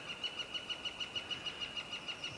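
Birds calling by a lake in the morning, a rapid, regular run of high chirps repeating steadily and fairly faint, over a soft outdoor background.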